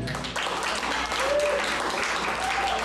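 Audience cheering and applauding at a CD release party, a steady dense wash of clapping and crowd noise lasting throughout, with a few faint voices mixed in.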